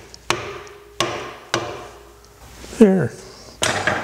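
A small mallet knocks wood on a lathe during a pepper mill and salt shaker turning project, five sharp separate taps spaced about half a second apart, with a brief spoken word in between.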